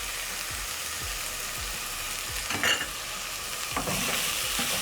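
Spiced beef frying in a pan with cloves and a beef stock cube, giving a steady close sizzle broken by repeated scraping stirs of a utensil against the pan, with no talk.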